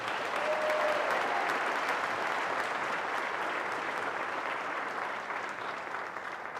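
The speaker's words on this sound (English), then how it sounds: "Can we give these wonderful people a round of applause?" At a high school senior award night, the audience applauds the student performers with sustained, even clapping that fills the room and eases off slightly toward the end, with no one speaking.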